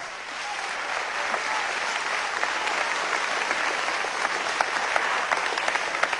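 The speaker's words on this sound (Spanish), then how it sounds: "Ernesto Villegas Paul Happ, un aplauso" An audience applauds during a televised interview, a broad, steady roar of clapping that swells gently and keeps going throughout.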